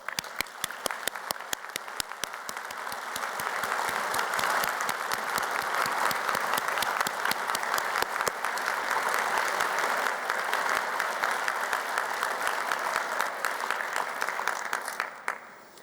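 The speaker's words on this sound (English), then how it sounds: "let's give them a thunderous round of applause" Sustained applause from a large audience at a university degree ceremony in Glasgow, steady dense clapping that holds for about fifteen seconds before tapering off.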